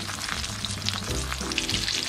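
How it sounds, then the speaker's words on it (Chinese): A pork cutlet fries in a flat pan with a thin layer of oil over low heat, giving a steady, close crackling sizzle with a faint musical tone underneath. "也要煎个三四分钟。"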